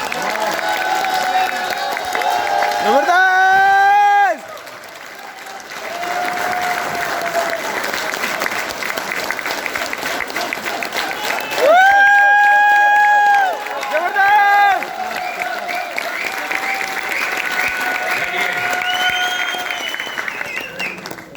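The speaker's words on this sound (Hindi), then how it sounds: "प्रवीण सर के ताली बजाइए तो दिल से बजाओ" A live audience at a direct-selling business event claps for Praveen sir, a steady wash of applause and crowd noise that swells in two louder bursts, with a voice speaking over parts of it.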